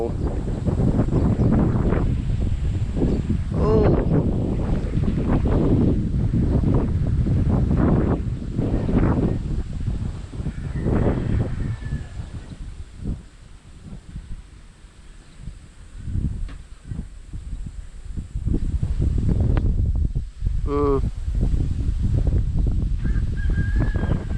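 Strong gusty wind buffets the microphone in heavy rumbling bursts, with a few honking bird calls and faint voices breaking through.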